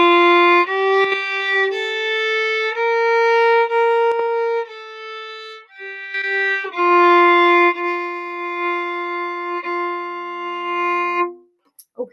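A bowed string instrument plays a finger pattern starting on C an octave higher, moving through a steady sequence of sustained, evenly paced notes, clear and close with no talking.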